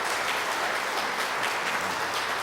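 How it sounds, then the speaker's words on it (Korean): A church congregation claps steadily and energetically throughout, a dense even wash of applause with no voices. "여러분들 환영의 박수 부탁드립니다."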